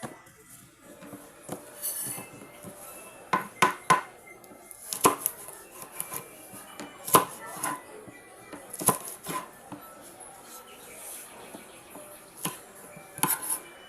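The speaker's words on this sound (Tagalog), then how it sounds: "iniwa-iwa ko ng malit kasi igisa ko po siya" A knife chops Baguio beans into small pieces on a board for sautéing, giving a steady run of sharp, close taps with brief pauses and a few light clinks.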